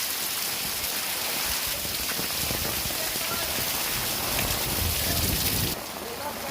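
Heavy rain pours steadily onto surfaces during a dangerous downpour, a dense, loud hiss of drops close by with no pause.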